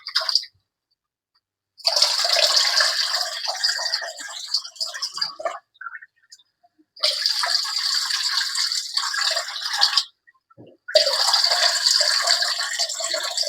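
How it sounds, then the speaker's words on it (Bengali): Water pours into a cooking pot of cabbage and beef in three separate bursts, each a few seconds of close, bright splashing and rattling, with short silent gaps between them and no voices. "আর অল্প একটু করে পানি দিয়ে দিচ্ছি।"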